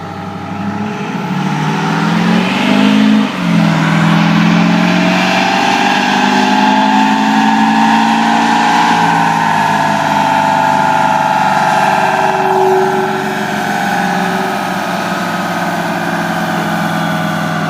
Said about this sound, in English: Looks like we got a Duramax diesel on there too.